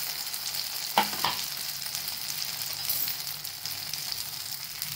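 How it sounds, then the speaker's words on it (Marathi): Leftover rice tikki shallow frying in a pan over a low gas flame, a steady close hiss and sizzle with a couple of brief clatters from turning them, no talking. "गॅस सिमवरच ठेवायचा आणि आलटून पलटून शालो फ्राय करून घ्यायचं छान"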